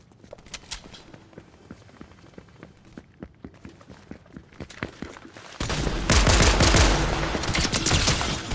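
FAMAS rifle fire in a video game: steady single and burst shots clatter through the first half, then dense, loud automatic gunfire fills the rest, close and with no voices.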